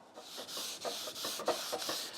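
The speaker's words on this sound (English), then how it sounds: "Now I'm going to sand down the surfacer again with my sanding block here and a grit of 800." Quiet rhythmic rasping of a sanding block with 800-grit paper rubbed back and forth over surfacer primer on an MGA car body, about eight strokes, close and soft.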